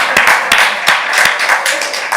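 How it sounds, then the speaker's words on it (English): A group claps at a youth gathering with sharp, close, irregular hand claps over a loud, busy room background. "let's clap yourselves up and keep that energy going"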